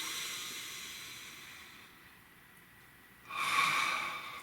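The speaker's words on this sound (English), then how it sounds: "So, nice full deep breath." A full, deep breath drawn in during a calm guided tarot reading session, starting as a soft airy hiss, fading quiet, then swelling into a louder, close breathy rush near the end.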